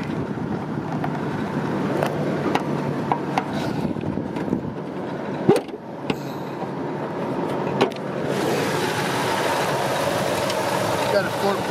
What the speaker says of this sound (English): They just put a fuel pump on it, and it's running good.